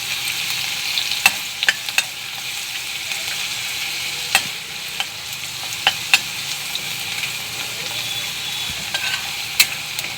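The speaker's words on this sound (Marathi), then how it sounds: "लसूण लाल होईपर्यंत तळून घेऊ।" Garlic frying in hot oil for methi bhaji makes a steady, loud, close sizzle that runs the whole time, broken by occasional sharp pops and light spoon clicks against the pan.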